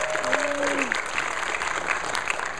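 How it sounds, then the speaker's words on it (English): Steady applause from an audience at a guitar recital, dense clapping throughout with a brief cheer or whistle early on. "Round of applause for Patrick."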